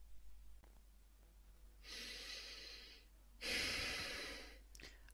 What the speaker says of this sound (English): And inhale and exhale.